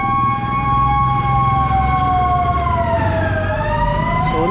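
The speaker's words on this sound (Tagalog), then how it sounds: "Bumbero." A fire truck siren wails loud and close, holding a steady tone and then sliding downward over a low engine rumble, with no voices.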